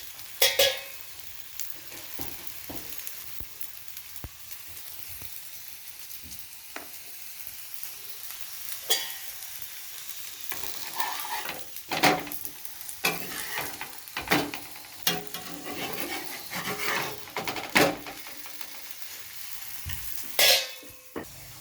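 Small sweet flatbreads fry and puff in hot oil in a pan, a steady sizzle broken by sharp stirring and turning clicks that grow busier toward the end.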